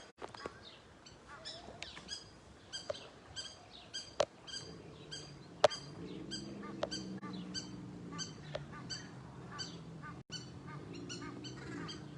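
Faint honking calls of geese far off, repeated in loose series over quiet outdoor ambience with occasional clicks.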